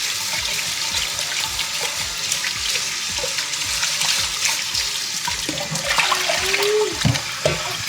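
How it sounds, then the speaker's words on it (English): Water is poured over buckwheat in a pot as it is set up to cook, a steady splashing, trickling flow that lasts throughout, close by, with small bubbling and clinking sounds near the end. "you need to pour a little bit more water"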